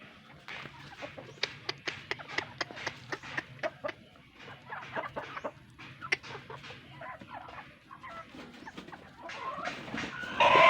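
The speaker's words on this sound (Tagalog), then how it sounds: "Ito po yung mga inahin na mangingitlog na." Laying hens cluck repeatedly in a busy, uneven patter, several birds near and far, with a louder squawk near the end.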